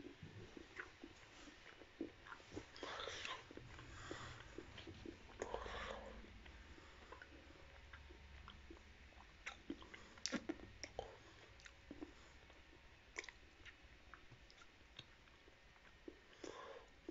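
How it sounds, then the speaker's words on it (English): Someone eats a piece of Cadbury advent calendar chocolate close to the mic, with soft chewing, wet squishy mouth sounds and small clicks, quiet and intimate. "Now it's time to eat this chocolate"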